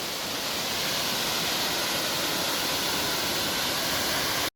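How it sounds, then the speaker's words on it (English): Small waterfall on a wooded hiking trail, a steady, loud, full-bodied rush of falling water that stays constant throughout, with no voices, until it cuts off abruptly at the end. "It's a cool little waterfall though, that's for sure."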